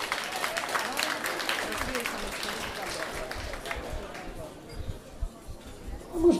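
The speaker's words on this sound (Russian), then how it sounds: "Порция аплодисментов ему" Audience applause for a pianist at a charity jazz concert, a dense patter of clapping with crowd murmur that fades and thins over the last couple of seconds.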